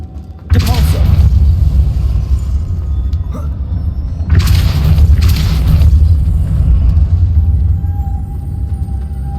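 Force spell cast in Hogwarts Legacy: two loud, close blasts of booming, rumbling thrust, the first near the start and the second a few seconds later, each trailing into a low roar.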